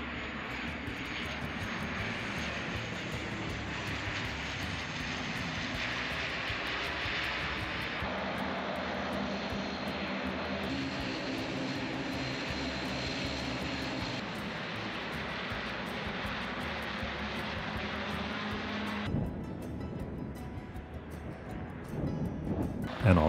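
An Icelandair turboprop airliner arriving from Reykjavik holds a steady, loud engine roar for most of the time, shifting slightly as the plane approaches, then easing toward the end.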